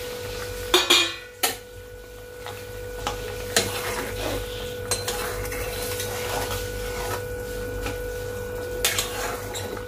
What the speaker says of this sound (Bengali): ঝোলটা ফুটে গিয়েছে, এবার আমি ভেজে রাখা মাছগুলো দিয়ে দিচ্ছি